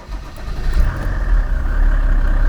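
A car engine runs steadily after start-up, a low rumbling idle that holds loud and close, its level creeping up slightly over a couple of seconds.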